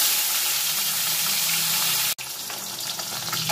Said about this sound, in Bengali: আমি ব্যাচে ব্যাচে মাছগুলো ভেজে নেব।